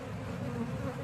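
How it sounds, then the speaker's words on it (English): Bees buzzing loudly and steadily at close range as they are moved from a swarm trap into their hive, a dense continuous drone with no talk over it. "The bees are still being pretty calm though."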